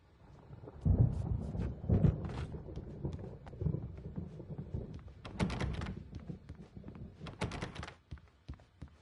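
Thunderstorm in the Alan Wake Remastered video game, with heavy thunder rumbles and sharp cracking thumps arriving in irregular bursts over steady rain, loud and close throughout.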